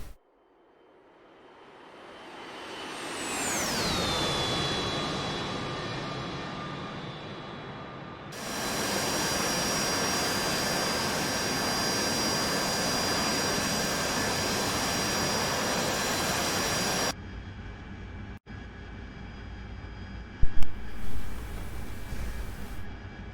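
A jet roar from an AV-8B Harrier in a flight simulator game swells with a downward-sweeping whine as it passes close, then settles into a steady loud broadband rush with high tonal whine, cutting and shifting near the end.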